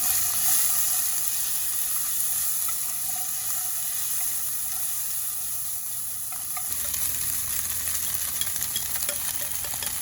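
Crab fried rice, made with Dungeness crab, is stirred in a hot pan, giving a continuous loud sizzle with scraping and tossing sounds throughout and no voices.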